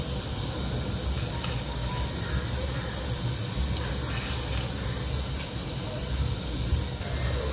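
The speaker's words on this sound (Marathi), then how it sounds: "आता जिरं, मोहरी टाकते।" Cumin and mustard seeds with curry leaves crackle and hiss steadily in hot oil for a Maharashtrian tempering, a close, continuous broadband sizzle without voices.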